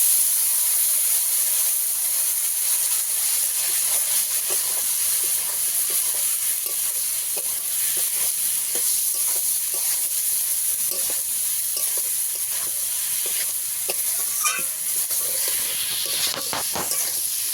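Spices for a fish, potato and lentil-dumpling curry sautéing in a pan with a little water, a bright steady steamy hiss with faint scattered crackles and stirring taps throughout, no speech.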